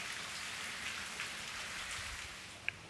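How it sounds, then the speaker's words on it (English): Steady rain falls in Sri Lanka during the rainy season, flooding the road and front yard, a continuous even hiss of drops on wet surfaces with a few louder nearby drips, no voices. "And it's still raining."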